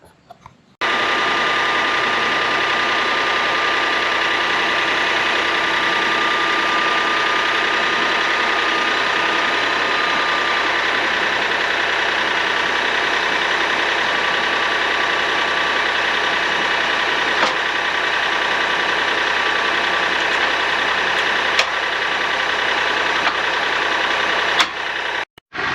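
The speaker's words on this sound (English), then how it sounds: "I'm gonna run the tractor and see if this will hook up all right" A tractor engine runs steadily to power a homemade tractor-mounted wood splitter built from an old big box log splitter, a loud, even mechanical drone with a ratcheting hum that holds for about 25 seconds with no talk.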